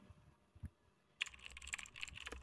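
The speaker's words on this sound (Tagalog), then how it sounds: "Ganito lang po kadali maglagay ng typewriter effect at sound effect sa ating mga video" A typewriter-style typing effect sounds as a quick run of crisp, close clicks and taps, starting after a brief quiet stretch of soft background noise.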